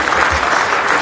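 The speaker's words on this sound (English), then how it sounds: "let's give them a round of applause" A room at a city council meeting breaks into brief, dense applause welcoming a visiting Mazatlan Chamber of Commerce delegation, loud and close with steady clapping throughout.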